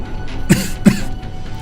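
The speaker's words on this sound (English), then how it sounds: "still having a little bit of a cough" A person gives two short, sharp coughs about a third of a second apart, close and clear over quiet room tone.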